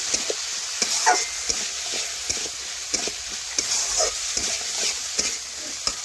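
Spice paste being stir-fried with ridge gourd in a pan, steady sizzling with repeated scrapes and clinks of the spatula at an irregular rhythm, close and moderately loud.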